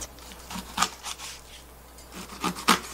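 A knife scraping and chopping through a flounder on a board, a few uneven rasping strokes with soft thuds, close and fairly quiet.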